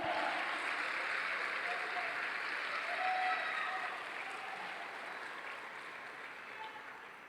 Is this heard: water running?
no